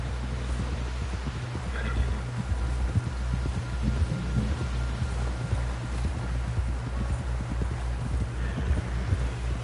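Horse hooves in the video game Red Dead Redemption 2, a steady rhythmic thudding that runs throughout under a low, constant hum, with no talking.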